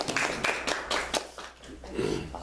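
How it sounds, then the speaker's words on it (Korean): Applause for debaters at a Korean discussion session: a short burst of scattered hand claps from a small group, uneven and fairly close, tapering off after about two seconds. "토론자들에게 박수 한번"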